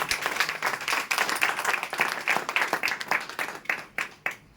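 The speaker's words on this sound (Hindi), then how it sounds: "एक बार जोरदार ताली बजा लीजिए।" Audience at a training program breaks into loud, sustained clapping, a dense stream of individual claps that gradually thins out toward the end.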